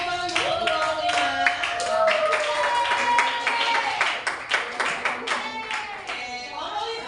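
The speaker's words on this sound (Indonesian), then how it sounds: "kita beri tepuk tangan dulu untuk kelompok 5" A classroom of eighth-grade students claps for a presenting student group, dense applause rising and holding for several seconds before thinning into scattered individual claps, with some voices mixed in.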